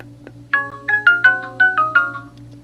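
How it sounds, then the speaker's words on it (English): A video doorbell chime plays a quick series of bright, bell-like tones, about six notes in a rising and falling pattern, clear and close. "Now what happens if you ring the doorbell?"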